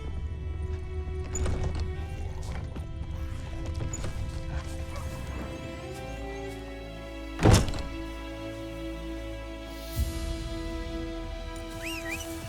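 Horse hooves thud and clop over a busy game soundscape in The Witcher 3, with a loud heavy thunk midway and a softer one later.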